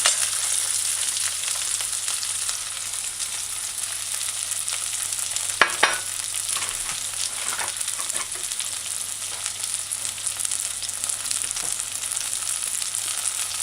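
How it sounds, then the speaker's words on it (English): Mashed garlic stir-fried in a pan, a steady broadband sizzle with a low background hum and a couple of brief utensil clicks near the middle. "after about a minute, stir fry it in, and now you can add the garlic"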